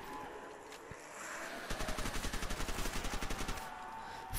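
Rapid automatic gunfire from a zombies video game on a pirate ship map, a sustained burst of evenly spaced shots lasting a couple of seconds, loud and close over a low ambient background, with a few single shots before it.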